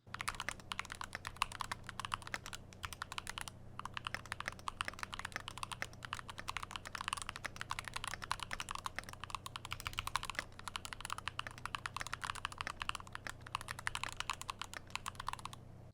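Rapid, steady typing on a Moondrop Dash keyboard fitted with stock keycaps, dense clacking keystrokes close and alone over a faint low hum, with only brief pauses.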